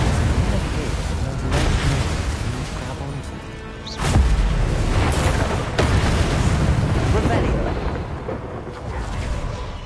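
Confringo and Incendio fire spell blasts in Hogwarts Legacy burst in loud, booming hits, a few seconds apart, each trailing into a rumbling roar, with a voice speaking between them.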